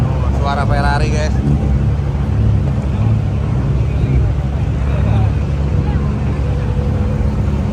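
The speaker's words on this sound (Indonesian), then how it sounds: "Suara Ferrari guys." A Ferrari sports car engine rumbles loud and steady throughout, a deep continuous roar with a brief higher whine near the start, with voices talking over it in a busy setting.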